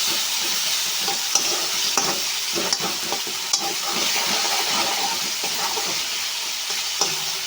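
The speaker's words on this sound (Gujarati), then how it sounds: "રોટલાને સાંતળવા માટે બે કે ત્રણ મિનિટ માટે આ રીતે સાંતળી લઈશું" Methi flatbread pieces for a fenugreek flour bhaji sautéing in a pan, a steady close sizzle with scattered stirring scrapes and clicks throughout, no voices.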